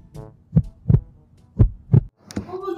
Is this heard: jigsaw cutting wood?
no